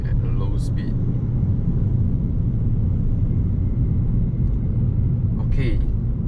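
A 2019 Toyota Camry cruises at low speed. Inside the cabin it gives a continuous low engine and road rumble, even and unbroken throughout.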